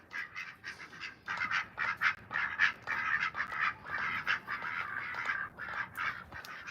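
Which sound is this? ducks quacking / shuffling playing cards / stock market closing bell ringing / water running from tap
ducks quacking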